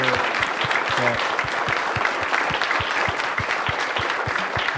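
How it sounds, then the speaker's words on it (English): Warm round of applause at a community COVID meeting for medical professionals and pharmacists, many hands clapping steadily and evenly for about five seconds, moderately loud with a faint voice underneath. "let's give a round of applause if we can, to all the medical professionals, the pharmacists that are here"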